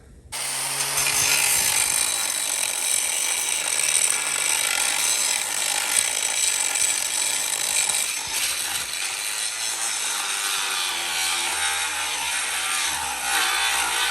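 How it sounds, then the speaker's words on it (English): Continuous loud, harsh whine of an angle grinder cutting through welds on a C7 Corvette body, steady and close for the whole stretch with no talking. "this grinder is absolutely horrible. We're getting through the cuts. It just takes forever."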